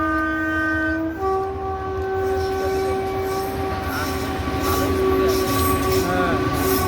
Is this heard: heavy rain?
no